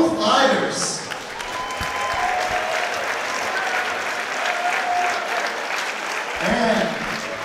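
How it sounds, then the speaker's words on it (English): A crowd applauds both fighters after an MMA bout, sustained clapping filling the whole stretch at steady strength, with an announcer's voice over it near the start and end. "Ladies and gentlemen, a round of applause for both fighters."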